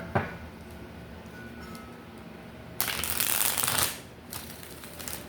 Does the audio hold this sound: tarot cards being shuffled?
yes